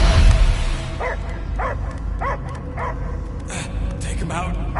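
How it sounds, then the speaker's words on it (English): A dog barks repeatedly in a steady rhythm in the video game Marvel's Guardians of the Galaxy on PS5, with game voices and background sound underneath. "I hear only barking."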